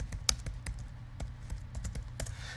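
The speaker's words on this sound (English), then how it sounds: "So I'm going to type in Jeff" Someone types a short name on a computer keyboard, producing a handful of crisp, irregular key taps close to the mic over a low background hum, with no voices.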